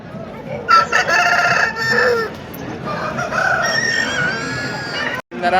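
A rooster for sale at the Sunday hen market in Pileru crows loudly and close, a couple of drawn-out calls over the busy murmur and clucking of the market crowd.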